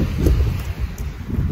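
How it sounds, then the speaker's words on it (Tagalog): Cold wind blowing outdoors, a loud continuous rumble of gusts buffeting the microphone with no voices over it. "Ang lamig ng hangin."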